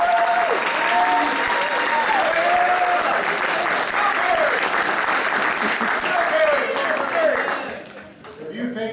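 A theater audience at an improvised courtroom comedy show claps loudly to cast a guilty vote, dense steady clapping mixed with whoops and cheers, then tapering off near the end.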